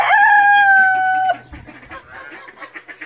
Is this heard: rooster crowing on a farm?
yes